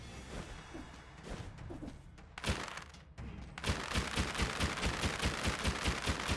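Cannon fire in the Dead Cells video game, a run of loud, rapid booming shots that grows into a steady, evenly spaced volley in the second half, with no talk.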